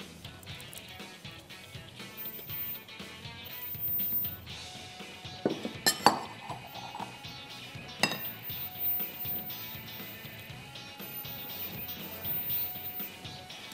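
A whisk clinks against a bowl while stirring coconut macaroon batter with shredded coconut, producing light, irregular metallic taps and scraping at moderate volume, with a few sharper clinks, without any talking.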